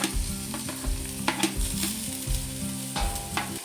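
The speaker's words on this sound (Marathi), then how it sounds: "तर आता कांदा परतून झालेला आहे आणि आता मिरची टाकून घेऊया तिखटनुसार" Green chillies sauté with fried onion in a pan, giving a loud, steady sizzle close by, with rhythmic scraping stirs and low knocks from the spatula repeating every half second or so.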